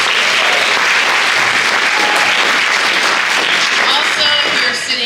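An event audience gives a loud, sustained round of applause for sponsors, thick continuous clapping close by, easing off briefly near the end with a few voices audible.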